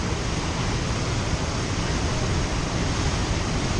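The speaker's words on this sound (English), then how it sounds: "There's another waterfall on the way there called Upper Falls." Upper Falls waterfall on the way to Devil's Kettle in Minnesota roars as a constant, dense broadband rush of falling water, loud and unbroken with no voices.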